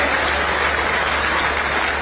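A standing crowd at a public foundation-stone ceremony for an irrigation project in Sehore district claps loudly to welcome the state chief minister, producing dense, continuous applause that fills the whole stretch with no speech over it.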